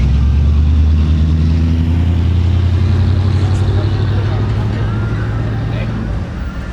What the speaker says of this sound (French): il y a Mustang qui s'est barré là